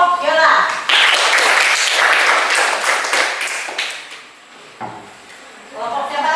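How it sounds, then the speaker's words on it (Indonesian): A classroom of students claps for a student group, bursts of hand clapping with a voice over it, fading out and then resuming briefly. "Tepuk tangan untuk kelompok Yola."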